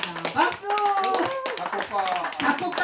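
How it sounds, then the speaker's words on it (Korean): Clapping from guests at a Korean music fan club's year-end gathering sounds as rapid, scattered hand claps in a room, with someone speaking over them almost throughout. "박수 한번 주시기 바랍니다. 박수!"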